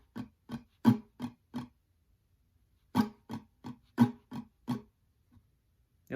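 Guitar strums in the pattern for a song (live version) play alone in two quick runs, about five crisp strokes, a pause, then six more, evenly spaced and close.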